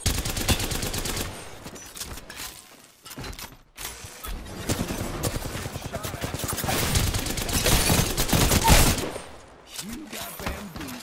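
Gunfire from Apex Legends rattles in dense, rapid bursts of shots over several seconds, with brief pauses between volleys, loud and close, with a voice speaking over parts of it.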